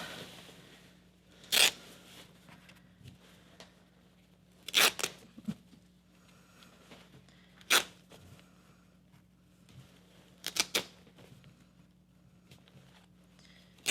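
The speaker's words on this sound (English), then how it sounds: "open your scissors wide and get the fabric deep into the scissor and then cut" Five or six brisk, sharp snips of scissors cutting through fabric, spaced a couple of seconds apart in an otherwise quiet room.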